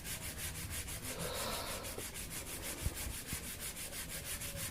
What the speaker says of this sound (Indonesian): Semuanya dihamplas.